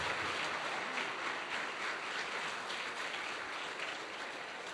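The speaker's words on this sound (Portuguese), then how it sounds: "Dê uma salva de palmas ao Senhor" Church congregation claps steadily in praise at a worship service, a broad, even wash of applause that stays moderately loud without pause, no voices over it.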